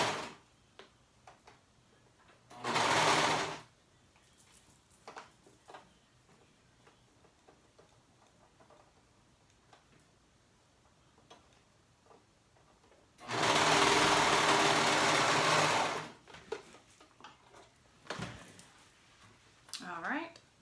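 A home sewing machine stitching a baby romper, running in two loud steady whirring bursts, a short one and then a longer one, separated by quieter handling sounds and talking.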